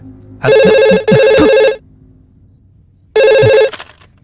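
A telephone rings loudly nearby in three harsh electronic bursts, two back to back and one after a pause, with faint background noise between.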